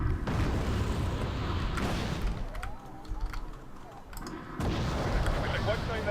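Rocket and artillery fire in the war video game Wargame AirLand Battle: loud, dense rumbling barrages with sharp cracks, easing for a moment before a heavy burst resumes.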